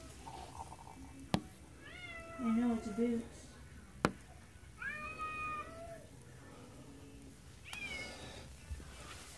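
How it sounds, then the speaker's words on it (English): A cat meows repeatedly, several drawn-out, fairly loud calls spaced a couple of seconds apart, with sharp clicks and people talking in between. "That's a noisy cat."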